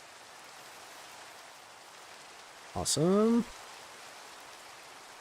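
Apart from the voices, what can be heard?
rain in Minecraft video game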